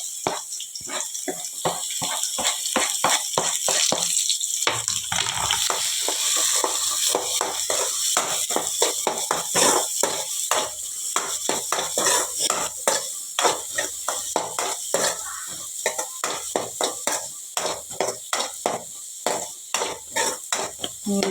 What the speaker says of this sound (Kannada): ನೀರುಳ್ಳಿ ಸ್ವಲ್ಪ ಫ್ರೈ ಆಗಿ